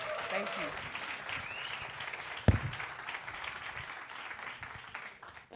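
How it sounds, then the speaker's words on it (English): Clapping from an audience at an online branding workshop in Olievenhoutbosch, a soft continuous patter of hands with one sharp louder clap midway, while people talk underneath. "Can we give him a round of applause?"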